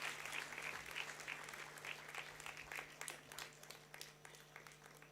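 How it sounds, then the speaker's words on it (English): Steady audience applause fills a convocation ceremony hall, a dense continuous wash of clapping from a large crowd lasting throughout at moderate distance, with a constant low electrical hum underneath. "Keep the applause going."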